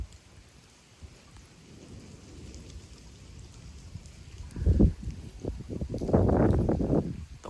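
Heavy rain pours during a severe thunderstorm with gusty wind. Soft steady rain builds into loud, close rumbles of thunder in the final seconds, and no one speaks.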